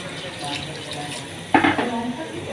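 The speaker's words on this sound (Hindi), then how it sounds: "तो अब हम इसमें 2 गिलास यखनी के ऐड करेंगे" Yakhni, a mutton stock, is poured from a glass into a pot of degi mutton pulao. A quiet kitchen background gives way to a sudden close splash and gurgling pour partway through.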